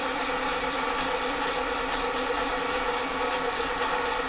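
A workshop machine, likely a lathe, runs steadily at about 1,000 RPM, giving a constant even hum with a whirring mechanical tone and no change in pitch or level throughout.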